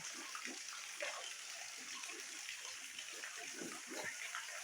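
Steady, faint rush of a small waterfall with little water beside a small cave in Seulo, Sardinia, a continuous gentle splashing hiss heard from a distance.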